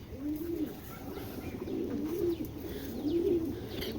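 Giribaz pigeons cooing nearby: a few soft, rolling coos repeat in a slow, regular rhythm over quiet background noise, with no voices.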